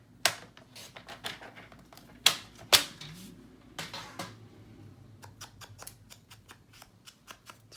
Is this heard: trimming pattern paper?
yes